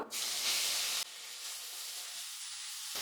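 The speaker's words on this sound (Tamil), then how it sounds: "இப்போ இந்த கேரட்டை சேர்த்துட்டு நல்லா வதக்கிக்கலாம்" Grated carrot sautéing in a hot pan for a semolina sweet, a steady close hiss and sizzle that is loudest in the first second and then settles into a softer continuous frying sound, with no voices.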